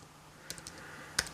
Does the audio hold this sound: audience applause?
no